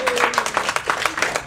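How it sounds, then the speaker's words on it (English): Brief burst of workshop audience applause for first-time attendees, many hands clapping quickly at close range. "give them a round of applause"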